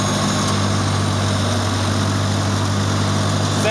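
A 1972 IH Farmall Cub tractor engine idles steadily after a cold start in snowy weather, a loud, continuous low chugging hum that holds even throughout, with no talking.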